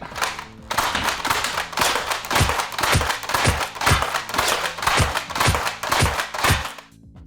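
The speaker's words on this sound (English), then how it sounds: "Now let's try slam fire." Rapid slam firing of an Adventure Force Conquest Pro dart blaster: a steady run of loud, close, rhythmic thumps and mechanical clacks, roughly two per second, continuing for several seconds before stopping.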